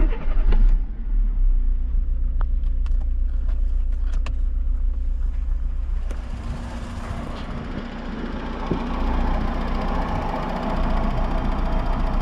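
A Volkswagen car engine starts with a loud burst, then runs steadily at idle, heard up close, with a few light clicks during the start and the running drone shifting slightly partway through.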